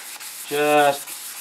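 Wooden bowl sanded by hand in a random pattern, a short close rubbing burst of about half a second that swells and fades, with no talk over it.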